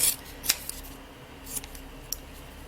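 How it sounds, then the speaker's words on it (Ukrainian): Scissors cut ribbon squares into leaf shapes for kanzashi, giving three or four crisp, separate snips close by against a quiet background. "І з цих квадратиків вирізаю листочки."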